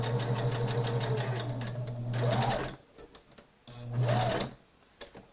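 A sewing machine stitches a tapered side seam on a knit dress, whirring steadily in two close bursts separated by a short pause.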